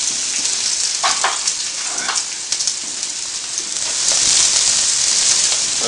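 Thinly sliced onion hits hot oil in a pan on high heat for an Indian prawn curry, giving a loud, steady sizzle with crackles that swells toward the end.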